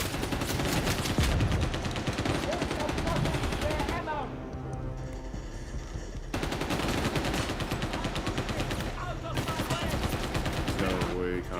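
Dense, sustained automatic gunfire fills a match of the shooter game CrossFireX, loud and continuous with rapid bursts layered over game noise and a brief lull midway.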